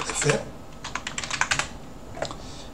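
Keys clatter on a computer keyboard while a keyboard layout is switched on an Anarchy Linux system, a quick burst of close, crisp clicks in uneven rhythm after a brief spoken word at the start.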